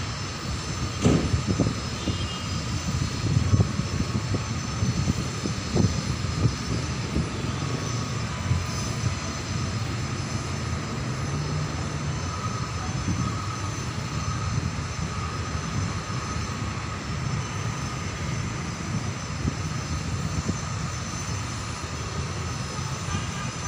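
A train passes straight through Jatinegara station without stopping: a loud, continuous rumbling roar with rattling and metallic clatter close by, sustained for over twenty seconds without letting up.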